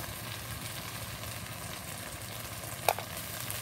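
Garlic is stirred in a frying pan while cooking a dish with okra, giving a steady, low sizzle with soft stirring scrapes and one brief sharp clink near the end.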